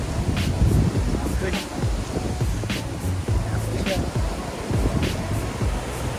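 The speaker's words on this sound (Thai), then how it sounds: "ทะเลลมแรง" Strong sea wind roars and buffets the microphone over the low rumble of surf on a rising tide at Hua Hin, Thailand, with indistinct voices faintly mixed in.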